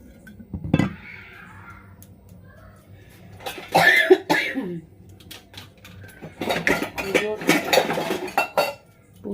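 Dishes and utensils are sorted and stacked in a home kitchen, with clinks and clatters of pots, plates and cutlery in bursts. A few coughs and some throat clearing are mixed in nearby.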